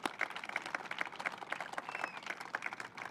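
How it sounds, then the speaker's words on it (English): Applause from the crowd at an event announcing the return of the Red Line, a steady wash of mixed hand claps with a few sharper individual claps standing out, moderately loud and continuous without speech. "We owe them a debt of gratitude and another great round of applause."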